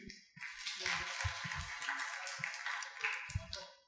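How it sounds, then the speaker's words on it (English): An audience applauds a speaker after a lecture on medicinal plants, a steady wash of many hands clapping at moderate level for a few seconds, fading at the end. "And we'll clap him and thanks to him."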